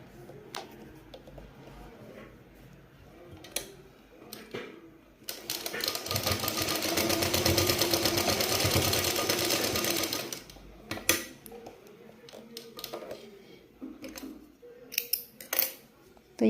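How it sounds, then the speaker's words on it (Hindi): A sewing machine runs a continuous stitching burst of about five seconds sewing a placket strip onto a simple kurti, with scattered ticks and handling clicks of fabric and tools before and after. "तो अब हम सिंपली यहाँ पे एक सिलाई लगा लेते हैं।"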